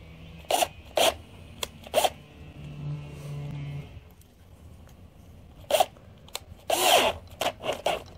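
A stainless steel no-hub coupling on a sump pipe is cranked tight with a power driver in short, loud ratcheting bursts, several separate zips spaced across the clip with a quieter stretch in the middle.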